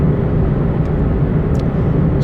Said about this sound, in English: Sorry for the noise in the background. It's my car making noise